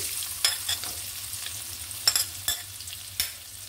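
Chopped onion, garlic and slit green chillies fry in a pan with an even close sizzle, broken by several short crackling bursts and light clatters as they are stirred.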